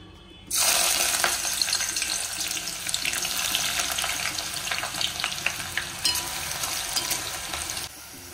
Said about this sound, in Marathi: अशा पद्धतीने मी हा सगळा कांदा तळून घेतला आहे।